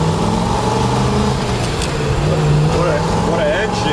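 A frame-off restored 1959 Corvette with dual quad carburetors runs steadily on a test drive, its engine droning loud and continuous under the cabin while a person talks over it.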